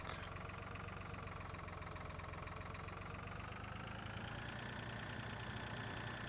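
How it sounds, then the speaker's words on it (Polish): A small tractor engine in Farming Simulator 2013 drones steadily and quietly throughout, a constant mid-low hum that rises slightly in pitch toward the end. "I tym traktorkiem w międzyczasie jeździć."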